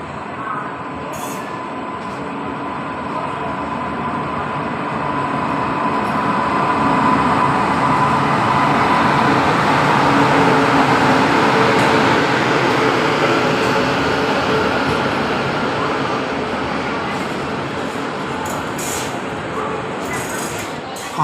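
A Kovai Express DEMU train at a station gives off a broad mechanical rumble that swells gradually to a peak midway and then eases off again over about twenty seconds.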